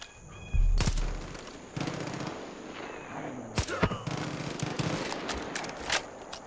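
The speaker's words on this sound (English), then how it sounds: "So much shooting going out on here." Bursts of automatic gunfire and single shots in the Far Cry 5 first-person shooter game, sharp cracks in clusters and rapid volleys against a steady background.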